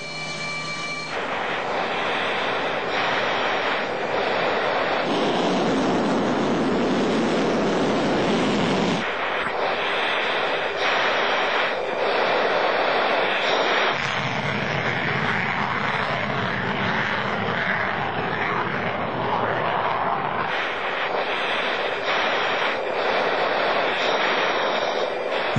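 A Sukhoi Su-37 fighter jet roars through an aerobatic display, its engine noise loud and sustained, swelling and fading in long waves as the aircraft manoeuvres overhead.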